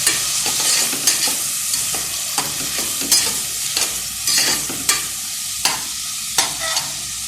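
Tomato, onion and curry leaves frying after mustard seeds in a pan, loud close sizzling broken by rhythmic spatula scrapes and stirs roughly every half second, with no talk.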